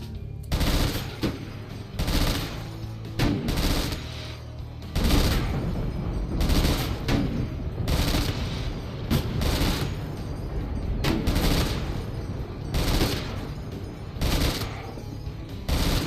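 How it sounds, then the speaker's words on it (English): Dense, relentless gunfire during an Archon raid in RimWorld: Odyssey, rapid machine-gun bursts repeating in clusters with booming impacts, loud and nearly continuous. "God, it's so many bullets. Yeah, Archon raid."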